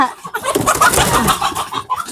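Rooster on a farm gives a brief burst of clucking and squawking close by, rising and falling over about two seconds, with no talking over it.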